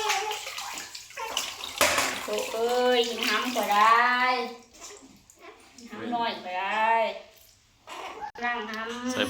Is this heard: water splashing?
yes